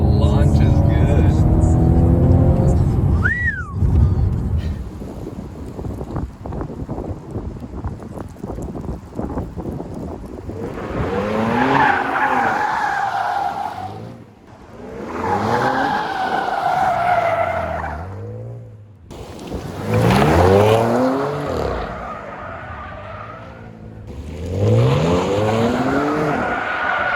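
A 2014 Audi S4 launches hard, engine revving through rising sweeps with loud tire squeal and wind buffeting, gear changes breaking the climbing pitch several times; a voice talks early on.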